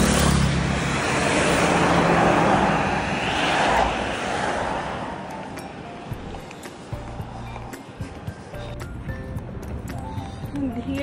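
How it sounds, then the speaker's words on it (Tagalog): Car cruising along a highway, a steady loud broadband road roar with tire and wind rush, easing slightly toward the end while occasional faint clicks and light rattles sit over the drone. "We are on the way along the highway."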